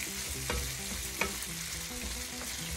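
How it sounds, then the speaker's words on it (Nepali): Potatoes stir-fried in a pan make a steady, close sizzle, with light scraping clinks from the stirring utensil every half second or so. "यसलाई केही बेर हामी पाकिन्जेल यसरी नै चलाएर भुटिराख्छौँ"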